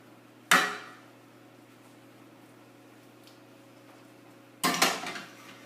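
Food tossed in a metal pan on a home stove: two sharp clattering scrapes of the pan a few seconds apart, with a low steady hum of the kitchen between them.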